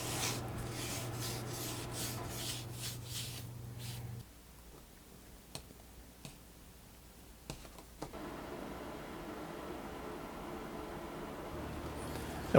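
A stitch groover cuts a groove along a leather gun belt in soft, close scraping strokes, first a continuous rasp, then a few short separate scrapes and rubs after a pause, with no talking.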